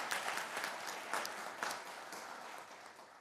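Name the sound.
applause at police officers' swearing-in ceremony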